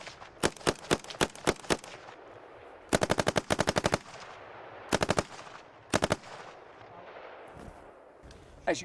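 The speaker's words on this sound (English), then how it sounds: "do some single shots first, and then open it up the automatic" An SA-80 rifle fires on a range, first in sharp single shots, then in rapid fully automatic bursts of several rounds each, loud and close with short gaps between bursts.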